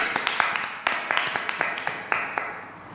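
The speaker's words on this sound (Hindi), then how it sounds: "हम वचन में जाने से पहले अपने खुदावन का जोरदार तालियों से स्वागत करते हैं।" A church congregation giving loud applause during a special prayer gathering, heard as bursts of sharp, fairly close claps in an uneven rhythm that trail off near the end.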